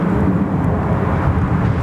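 A Q400 turboprop airliner departs from runway 34 left at Sydney Airport, producing a loud, steady engine roar with a broad low rumble that holds evenly throughout the short stretch.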